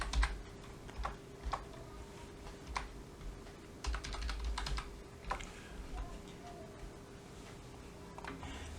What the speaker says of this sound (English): You can type Microsoft.